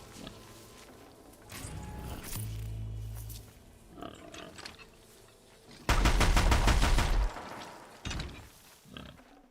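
Heavy Deathbringer gun from Horizon Zero Dawn firing in two loud, rapid sustained bursts, each a dense mechanical rattle lasting a couple of seconds, with quieter game sounds between.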